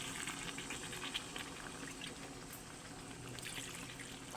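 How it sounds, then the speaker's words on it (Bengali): Warm water poured into a pot of browned chicken curry while it cooks, a steady, fairly quiet gushing and bubbling wash that runs unbroken throughout. "চিকেনটা কষানো হয়ে গেছে, এবার পরিমাণ মতো জল দিয়ে দিচ্ছি।"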